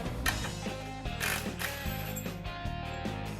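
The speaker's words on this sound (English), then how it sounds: "we're going to remove the bolt" Ratchet wrench clicking in short bursts while a bolt is removed on a Polaris Duraclutch kit for a Ranger or RZR 570–900 utility vehicle, close, quiet, mechanical and uneven in rhythm.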